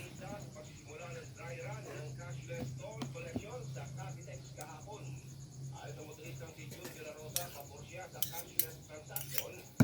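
Egg spread being stirred with mayonnaise and sugar, a utensil clinking and scraping against a bowl in quick irregular strokes, fairly close, over a steady low hum.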